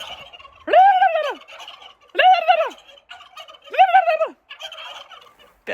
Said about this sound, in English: the turkeys.